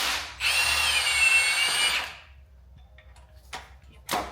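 A power tool drives 10mm hex bolts on an SR20DET engine, one loud continuous whirring burst of about a second and a half, followed by quieter clicks and two short sharp knocks.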